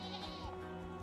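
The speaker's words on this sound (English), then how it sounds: "What is it with the goats?" A goat bleats in the fantasy video game Unicorn Overlord, a single close, loud, wavering cry with a strained, nasal tone that carries through the whole second with no talking over it.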